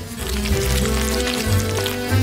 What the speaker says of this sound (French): Maintenant je mets tout dans une poêle. J'ajoute les crevettes et un peu d'huile.